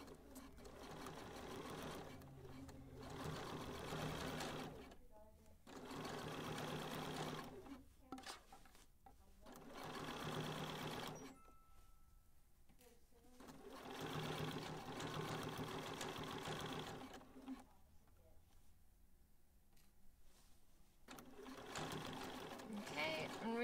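A sewing machine with an edge foot stitches a hem in several bursts of whirring and rattling separated by pauses, heard fairly close.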